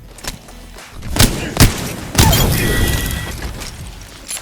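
Gunfire in the shooter game Apex Legends, several sharp cracking shots followed by a sustained burst of rapid fire, loud and close, with faint background sound between.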